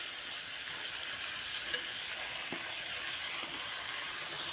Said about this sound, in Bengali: মাংসটা কিন্তু মিনিমাম 10-15 মিনিট ভালোভাবে একটু নাড়িয়ে নিতে লাগবে।